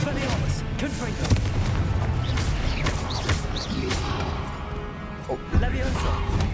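Blasting-spell explosions and magical combat bursts in Hogwarts Legacy, loud booms and crashes piling over a dense battle din, with a player's voice talking over the action.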